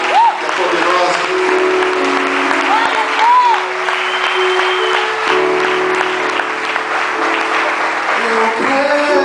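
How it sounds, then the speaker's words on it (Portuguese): A church congregation claps during a sermon, a dense, sustained applause that stays loud throughout while steady tones, likely music, run underneath. "Você pode aplaudir a palavra de Deus, que é poderosa."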